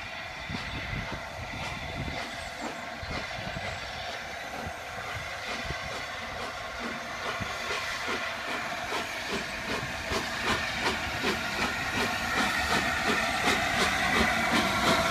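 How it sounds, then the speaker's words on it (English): The LNER A4 steam locomotive Sir Nigel Gresley runs past, hissing steam over rapid rhythmic exhaust beats and clattering wheels that grow louder and closer over fifteen seconds. "I'm going to put a little bit of footage in here of Sir Nigel Gresley running past."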